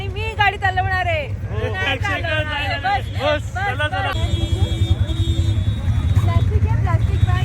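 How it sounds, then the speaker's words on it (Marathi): ATV engine droning steadily on a ride at Doodhpathri in Kashmir, with people talking loudly over it at first before the motor hum carries on underneath. "आता आम्ही आलोय ATV राईड करायला आणि मी गाडी चालवणार आहे."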